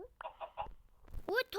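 A chicken in a Minecraft one block game gives short clucks followed by a sharper rising squawk, close and moderately loud with no talk.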